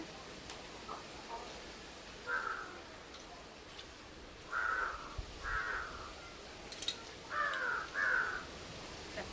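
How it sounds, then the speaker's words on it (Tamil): A crow caws several times, in short hoarse bursts with pauses between, over faint background noise. "காக்கா"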